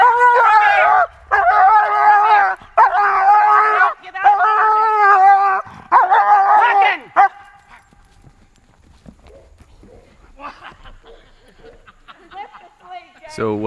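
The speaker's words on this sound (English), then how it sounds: "So what you're seeing here is a demonstration of a very cool dog." A trained movie dog, able to look ferocious without hurting actors, barks and howls in loud, drawn-out bursts for several seconds, then falls quiet to softer scattered noises.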